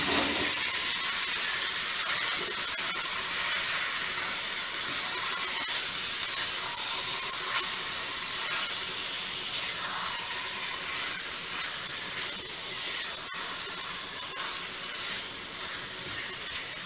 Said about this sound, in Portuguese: Agora eu vou colocar ali minha carne moidinha.